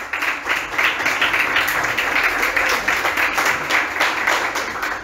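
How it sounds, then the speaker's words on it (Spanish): An audience bursts into strong, sustained applause for guests at a carnival-themed talk event, a loud, dense wash of many hands clapping that holds steady for several seconds before tapering slightly. "Fuerte el aplauso,"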